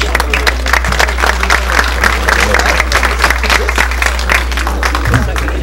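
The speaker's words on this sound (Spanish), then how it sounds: "Muy bien, fuerte entonces los aplausos." An audience claps strongly at a civil engineering week closing ceremony honoring engineers' silver anniversaries, a dense, continuous round of applause in a hall with a low electrical hum beneath and some voices mixed in.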